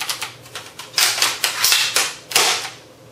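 A&K JLS CA33/HK33 airsoft AEG shooting in several quick bursts of sharp, clattering shots, close and fairly loud, with brief gaps between the strings of fire.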